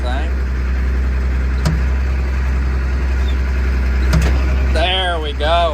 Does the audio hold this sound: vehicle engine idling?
yes